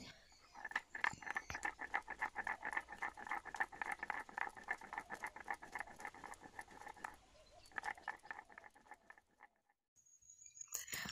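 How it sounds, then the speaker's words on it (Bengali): Ginger, garlic and black pepper are ground into paste by hand, a rapid run of close tapping, pounding strokes that pauses briefly near the end. "আর এখন আমি এই আদা আর রসুন বেটে নিচ্ছি, আদা রসুন আর কিছুটা গোলমরিচ"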